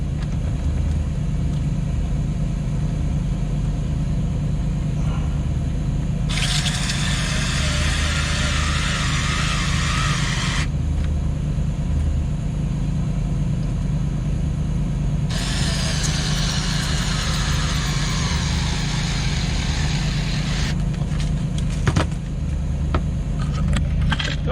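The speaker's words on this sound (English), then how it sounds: "while the engine is running" The engine of a Luhrs 28 boat idles with a steady low rumble, while bursts of higher broadband hiss come and go over it and a few sharp clicks sound near the end.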